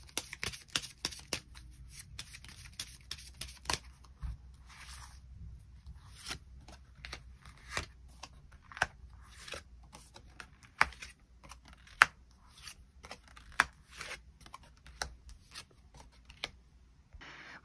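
Tarot cards being shuffled and drawn at close range, a long run of crisp irregular flicks, slides and taps of cards against each other and a table, alone in a quiet room.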